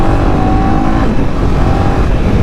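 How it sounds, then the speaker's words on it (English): A motorcycle exhaust revving hard at high RPM above 5000, a loud, steady, close-up engine roar with a grunty tone that holds throughout and has no talking over it. "The exhaust has a nice grunt whenever it's pulled at high RPM."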